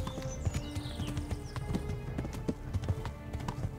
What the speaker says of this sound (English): your horse slowed down like this